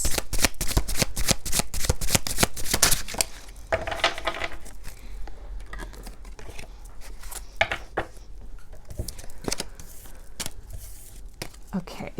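Tarot cards shuffled briskly, a dense rapid riffle of papery flicks that slows into looser slaps and taps, close and fairly loud.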